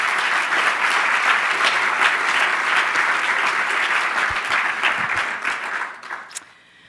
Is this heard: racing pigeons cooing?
no